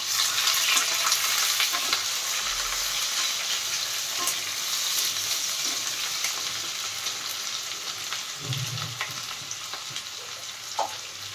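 Whole garam masala and bay leaves frying in hot oil over onions for a Sunday chicken curry, a steady close sizzle that crackles throughout with occasional soft stirring knocks, no voices.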